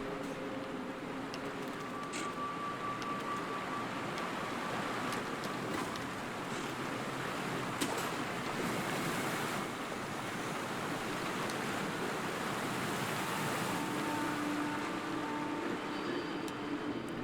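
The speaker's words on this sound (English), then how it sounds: "The noise of the roaring waterfall is deafening." A roaring waterfall in the video game Sekiro gives off a steady, dense rush of water noise that holds at an even, loud level throughout, with no voices.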